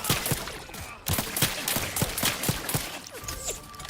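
Sci-fi gunfire in the video game Starfield, with repeated sharp shots coming in quick bursts and a steady rhythm of cracks over a dense background of combat noise.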